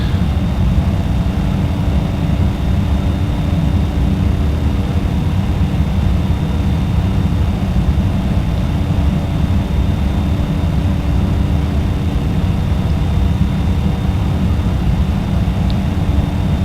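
Aircraft in a flight simulator game being hand-flown, a loud, steady engine drone with constant wind-like rush and a faint high tone throughout, no talking.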